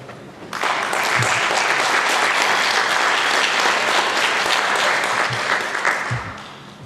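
An audience at a jazz camp concert applauds loudly and steadily, a dense wash of many hands clapping that starts abruptly, holds for several seconds and then tapers.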